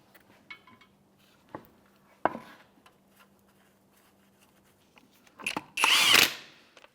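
Lug nuts on a 2011-2016 Hyundai Elantra front wheel are driven down with a 21 mm socket: a few scattered clanks and taps, then one loud short burst of a power tool near the end.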